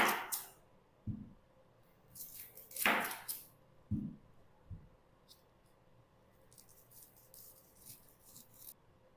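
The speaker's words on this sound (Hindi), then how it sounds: "सैलेड के लिए मीडियम साइज़ की प्याज का इस्तेमाल करेंगे और चाकू की मदद से हम इसको अब कट कर लेते हैं" A knife cuts a medium-sized onion for salad, giving a handful of separate thuds and taps on the board with quiet gaps between them, followed by a run of lighter, quicker cuts.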